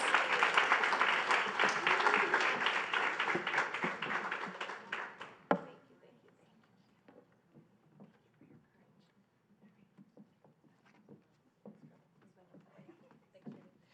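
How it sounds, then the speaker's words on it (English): Audience applause at a Moms for Liberty town hall in Pennsylvania: dense, loud clapping for about five seconds, then fading abruptly into a quiet room with scattered faint taps and murmurs. "Please give them a round of applause."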